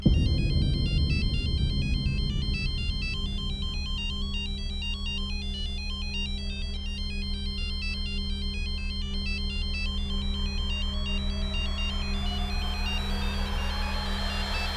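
A phone ringtone plays on and on for about fifteen seconds, an electronic repeating melody over a low steady hum, with the call left unanswered.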